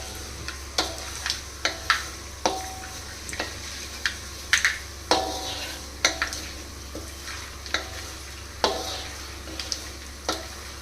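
Biryani masala spices fry in a kadai with a steady sizzle over a low hum, while a spoon scrapes and taps the pan in regular strokes about once a second.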